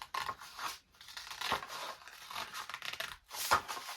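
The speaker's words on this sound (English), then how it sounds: "now you want to cut that off, so let's do that quickly with our scissors." Close-up scissors snip through paper in several crisp strokes while making journal pockets, with rustling between cuts and no talking.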